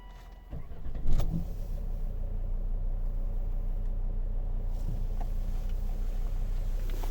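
A 2011 Volvo S40 2.0 D3 diesel with automatic gearbox starts up with a brief thump and then idles in a low, steady rumble heard from inside the car.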